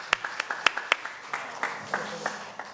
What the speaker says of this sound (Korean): 메디치 미디어 김현종 대표님께 다시 한번 박수 부탁드리겠습니다